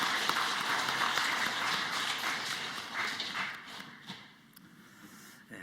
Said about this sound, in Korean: 축복하고 격려하는 박수합니다